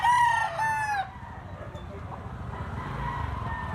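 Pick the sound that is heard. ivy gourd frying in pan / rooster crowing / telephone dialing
rooster crowing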